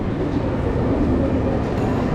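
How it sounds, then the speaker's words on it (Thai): Steady low rumble of a train moving along the rails in Switzerland, with continuous close interior rolling noise and no clear speech. "ขึ้นมาบนรถไฟแล้วนะคะ"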